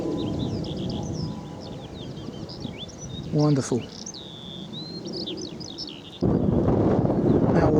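Birdsong on a countryside walk near an avenue of fruit trees: a bird trills and warbles in quick varied phrases over steady wind and outdoor noise, with someone briefly speaking and rustling louder near the end.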